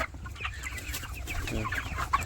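Chickens on a farm cluck in short, close bursts, several birds overlapping in a busy, uneven chatter with no talk.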